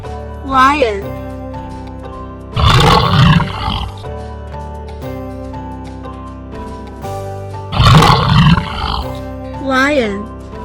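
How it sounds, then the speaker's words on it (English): A lion's roar from a children's animal sounds collection, two loud growling bursts set against steady background music with a short musical jingle at the start and end. "lion"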